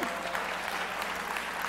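Audience applause at a talk on time management, a steady dense wash of clapping that fills the whole short stretch without letting up.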